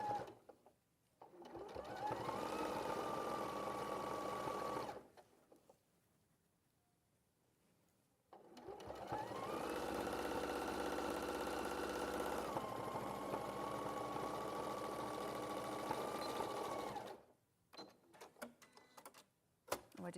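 A sewing machine stitches a garment hem in two long steady runs of rapid mechanical whirring, each lasting several seconds, separated by a quiet pause, close and clear with no talking over it.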